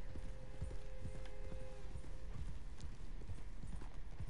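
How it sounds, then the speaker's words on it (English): Horse hooves clip-clop at a steady walking rhythm in Red Dead Online, close and crisp over a quiet outdoor ambience, with a short tonal hum early on. "Honey, that's my horse."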